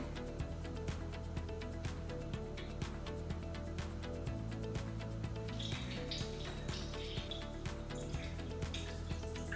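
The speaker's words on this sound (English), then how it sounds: "Just put it in the container, pour it in." Homemade oat milk poured into a container, a faint, steady liquid trickle and splash with light clinks against a background hum, no talking.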